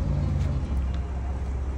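A BMW G80 cruising on the road from inside the cabin, with a low steady engine and road rumble that stays moderate throughout.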